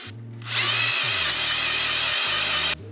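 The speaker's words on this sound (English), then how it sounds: "so I ended up just drilling it out." A power drill bores out a stripped brake rotor retaining screw on a 2017 Ford Explorer, a steady loud whine running for over two seconds with the motor's hum beneath it.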